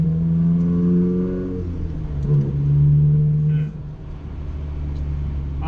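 A Honda Civic EG6 SiR2 with an aftermarket exhaust manifold and muffler revs up close, its engine tone rising, easing off and climbing again in smooth pulls under a constant road rumble.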